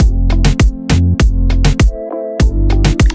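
A loud, punchy reggaeton drum loop called "látigo", with booming low kicks and sharp snare-like hits in a syncopated rhythm, repeating up close.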